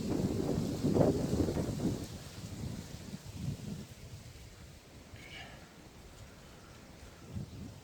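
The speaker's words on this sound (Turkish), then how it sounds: "Rüzgar sesi, kuş sesi." Gusty wind buffets the microphone outdoors, a low rumbling roar that swells early and eases off, with faint birdsong chirping in the background.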